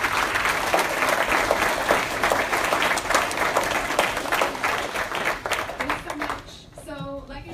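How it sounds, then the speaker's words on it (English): An audience at a beer-industry careers panel applauds the panelists, loud dense clapping from a nearby crowd that tapers off near the end as a voice begins speaking. "Can we give our panelists a round of applause?"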